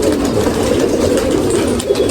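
A racing pigeon lands at a pigeon-flying competition and coos, a loud, close, steady murmuring coo with no voices over it.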